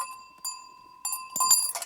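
A bell hanging on a horse's neck at a camp rings in a few short, bright clanks, quiet and close, with pauses between strikes.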